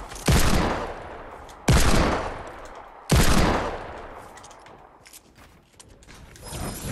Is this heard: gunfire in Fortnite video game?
yes